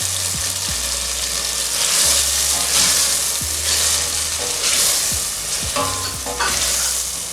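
Bell peppers sizzle and fry in a hot pan while being stirred for a shrimp makwala broth, a loud continuous crackle with repeated scraping strokes of the spoon and no speech.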